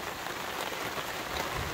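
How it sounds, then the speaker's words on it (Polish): Heavy rain pours steadily in Greece during a van trip, a dense, even hiss of drops hitting surfaces with no voices or pauses. "W końcu leje!"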